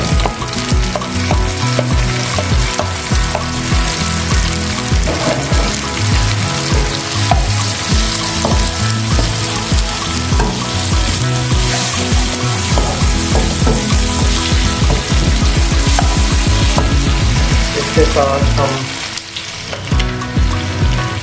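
Chopped onion and tomatoes sizzle loudly and steadily in a pan as they are stirred, under a continuous tonal background that fades near the end.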